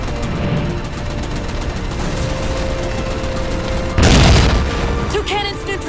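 Steady rumble of combat in the video game Halo 4 with scattered booms and gunfire, capped by a loud explosive blast as cannons are destroyed near the end, followed by electronic chirps.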